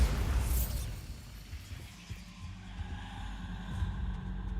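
A Bombarda blasting spell explodes in the Hogwarts Legacy video game, opening with a loud burst and crackling debris. A low rumbling tail follows and fades over several seconds.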